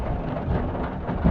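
Steady rain falls during a thunderstorm as a continuous broadband hiss with a low rumble underneath, close and fairly loud, with a brief thump near the end and no voices.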